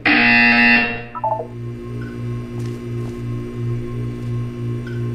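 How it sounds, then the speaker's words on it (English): A loud, harsh electronic buzzer in Portal 2 blares for about a second, then cuts off, leaving a steady pulsing hum and faint chirps. "You will hear a buzzer."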